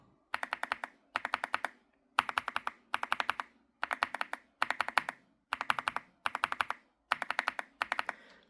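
Bursts of rapid mechanical keyboard switch clicks, deep and thocky, typed in short rhythmic runs of five or six strokes with brief pauses between, close and clear with no talking.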